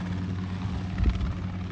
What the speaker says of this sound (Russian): как вам понравился этот вертолет